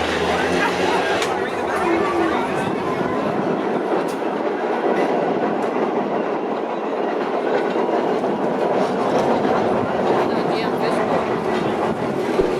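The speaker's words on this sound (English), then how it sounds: "it's crazy that this streetcar is literally 98 years old" A 98-year-old vintage TTC Peter Witt streetcar rumbling along Toronto rails, a steady loud interior roar with rhythmic wheel clacks and creaks, while passengers chatter throughout.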